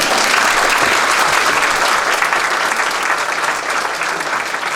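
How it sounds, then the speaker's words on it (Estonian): Loud, sustained applause from an audience at a school alumni ceremony, dense steady clapping that fades slightly toward the end, with no speech on top. "Aplaus Sirjele."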